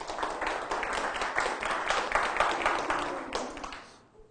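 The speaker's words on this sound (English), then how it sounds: "Please give her a round of applause." An audience at a leadership boot camp in Fort Chipewyan claps together in a dense, steady round that fades out near the end, with no talk over it.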